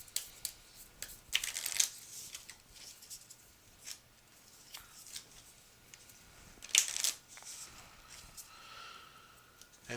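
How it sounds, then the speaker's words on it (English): Board game cards from The Princess Bride Adventure Book Game being shuffled as a plot deck, two brisk riffling bursts close by with quieter handling and card taps between, no talking. "And then we also shuffle the plot deck and then place it next to the book."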